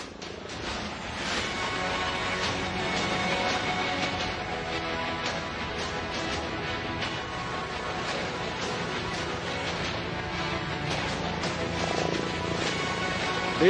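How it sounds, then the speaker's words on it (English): A HAL Light Utility Helicopter performs stall turns at an air show display, its steady rotor and engine drone sustained and moderately distant throughout, without talk. "The helicopter is now performing a few stall turns in front of us"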